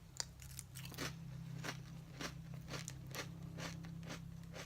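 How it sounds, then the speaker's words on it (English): Crisp crunches from biting and chewing homemade keto chips, a series of sharp close crackles repeating every half second or so over a steady low hum. "these chips are crunchy just like a regular chip."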